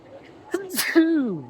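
A single abrupt sneeze bursts out, close and loud, with a voice sounding just before and after it.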